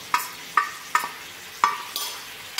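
A spoon stirs tomato chutney seasoned with salt, crushed red chilli and roasted cumin in a pan, making five close, regular scraping strokes about half a second apart over a soft sizzle.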